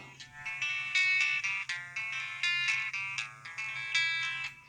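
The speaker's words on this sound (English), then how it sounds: "So there it is, House of the Rising Sun on Spotify" A tinny smartwatch speaker on a Kospet Hope plays House of the Rising Sun from Spotify, arpeggiated guitar notes ringing out in a steady rhythmic pattern, thin and slightly distorted, with a faint low hum underneath and no talking.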